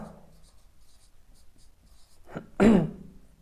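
A pen scratches softly on paper while someone writes out maths equations, a quiet scribbling that ends in a louder breathy vocal burst.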